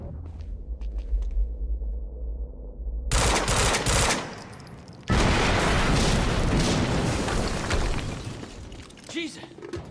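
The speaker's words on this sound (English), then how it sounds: "we just heard an explosion near the harvesting perimeter" In the Quantum Break game, a sudden violent blast erupts, a loud broadband burst followed by a second heavier roaring explosion with crackling debris that fades out, after a quiet stretch at the start.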